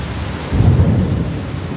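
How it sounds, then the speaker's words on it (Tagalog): Heavy rain roars steadily while a deep rumble of thunder swells in partway through, heard outdoors beside a water pump being monitored. "Malakas ang ulan."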